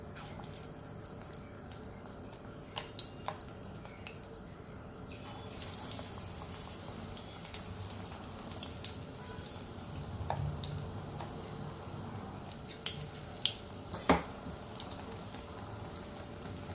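Sindhi-style bottle gourd pakoras sizzle quietly in hot oil, a soft steady hiss dotted with scattered crackles and sharp pops, one louder burst partway through.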